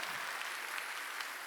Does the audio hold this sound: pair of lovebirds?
no